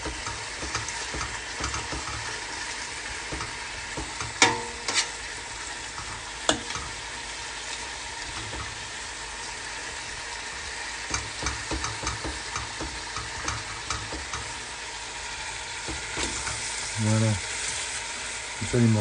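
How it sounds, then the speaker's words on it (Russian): Beef pieces sear and sizzle steadily in a hot pan for bœuf bourguignon, a continuous close frying hiss with occasional clinks and stirring knocks and no talk. "Comme ça, les morceaux vont bien saisir de chaque côté."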